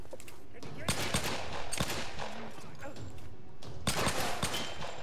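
Pistol fire in the action game Tomb Raider on hard difficulty: repeated sharp shots in quick bursts over a continuous noisy game soundtrack.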